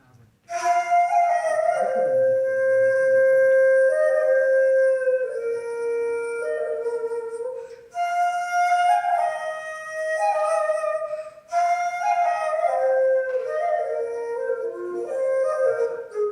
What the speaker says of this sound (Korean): 이제 왼쪽에 있는 대금의 가락을 제가 연주해 보겠습니다.